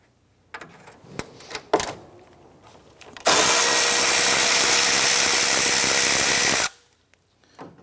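A 12mm socket on a power tool loosens and removes a radiator bolt on a 1992-1996 Toyota Camry 2.2L I4, a few clicks and knocks followed by about three seconds of loud, continuous close-up whirring that stops abruptly.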